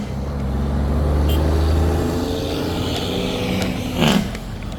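Truck rumbling past on a road, a heavy low engine drone swelling and fading with a brief hiss near the end, loud and close.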